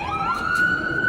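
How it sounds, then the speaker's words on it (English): Wailing siren of an emergency vehicle in the street, loud and close, with a steady rising tone that holds for the whole second. "you heard that siren?"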